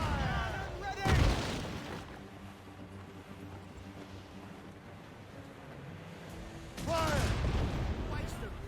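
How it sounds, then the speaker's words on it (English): Heavy cannons boom during a naval battle in the game Assassin's Creed Rogue: two broad, rumbling blasts several seconds apart over steady ocean and ship ambience. "Oh, look at those 4 cannons go."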